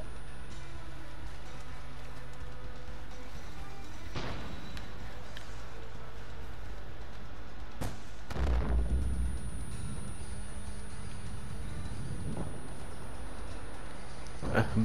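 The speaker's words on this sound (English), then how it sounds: "There's some mortar strikes now." In a video game, mortar strikes land as deep booming impacts, two or three heavy blasts with rumbling low tails under a steady game ambience.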